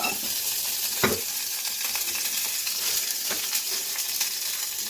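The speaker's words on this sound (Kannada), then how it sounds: "ಬಾದಾಮಿ and ಗೋಡಂಬಿ ಮಾತ್ರ ಫ್ರೈ ಮಾಡ್ಕೊಂತ ಅದಕ್ಕೆ ತುಪ್ಪದಲ್ಲಿ ಒಗ್ಗರಣೆ ಹಾಕಿರೋ" Almonds and cashews fry in ghee for poppy seed payasa, giving a steady close sizzle throughout with a couple of sharper clinks or stirs, no voices.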